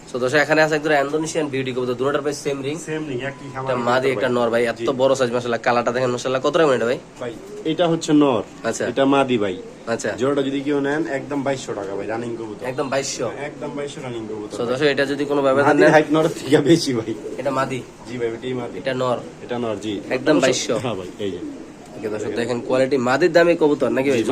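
Pigeons coo steadily and loudly at a pigeon seller's spot, repeated throaty coos overlapping close by beneath continuous talking.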